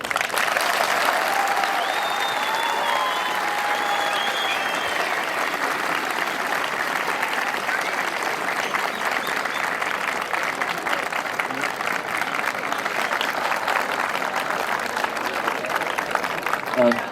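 Students, parents and guests applaud loudly after a school open day speech, a dense, sustained wash of clapping from a large crowd that continues steadily without pause.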